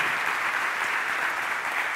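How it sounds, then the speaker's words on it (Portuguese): A church congregation welcomes visitors with applause, a steady, even patter of many hands clapping for a couple of seconds, moderately loud with no voices over it. "saudamos você com palmas"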